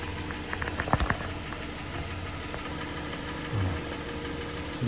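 A loose part on a car rattles along with the idling engine, a low steady engine hum carrying faint irregular knocks and a few sharper clicks, close by and fairly quiet, with no talking.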